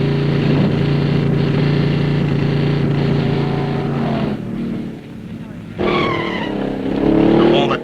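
Hot rods from 1952 roar on a drag strip as their tires spin and squeal, a loud, continuous engine drone that dips briefly before another car bursts in with rising whine and tire screech.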